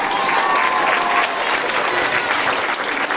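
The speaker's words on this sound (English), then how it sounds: "Let's give them another big round of applause." An audience at an elementary school Grinch stage production gives the students a big round of applause, a dense, loud, steady wash of many hands clapping together with faint crowd noise.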